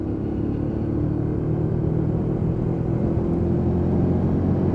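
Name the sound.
Lexmoto Michigan motorcycle riding, changing down gears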